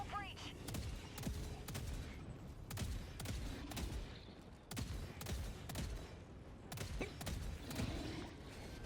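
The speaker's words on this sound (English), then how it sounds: "watch how the autocannon sentry does it" An autocannon sentry fires at bugs in the Helldivers 2 video game, a dense stream of heavy booming shots in rapid bursts over constant battle noise, with no clear speech.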